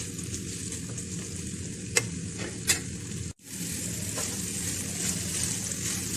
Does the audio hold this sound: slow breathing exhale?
no